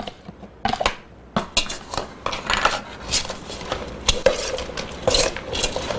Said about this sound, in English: we're going to stir that all up